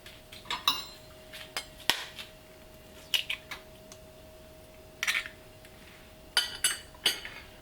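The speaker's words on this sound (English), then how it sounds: "you're going to crack the egg." An egg cracked into a bowl while making Goan beef cutlets: a few sharp, close clicks and clinks spaced out against a quiet kitchen hum, with no speech.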